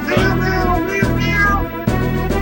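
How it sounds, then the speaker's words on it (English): Several cats meow repeatedly and loudly, close by, in three drawn-out overlapping calls against a steady background hum during a game stream. "Those cats is hungry."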